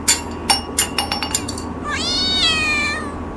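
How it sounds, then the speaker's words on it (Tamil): A cat meows over and over in a song, a strained drawn-out cry after a run of bright metallic clinks like a tumbler rolling and knocking, all set against a steady music bed. "பூனை கத்துச்சு, டம்ளர் உருண்டுச்சு"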